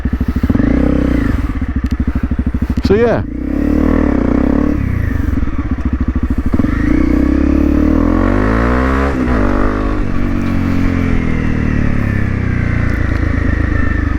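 A Honda CRF250 Rally motorcycle engine idles and revs loudly and close by, rising and falling in pitch, with a brief clatter and a few words spoken over it.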